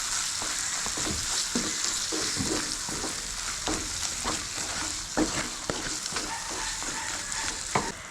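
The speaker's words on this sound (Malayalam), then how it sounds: "നന്നായിട്ടൊന്ന് മിക്സ് ചെയ്ത് കൊടുക്കാം" Kerala-style tomato pickle is stirred with salt in a hot pan: a steady sizzle runs under repeated scraping strokes of a spoon against the pan, close and moderately loud.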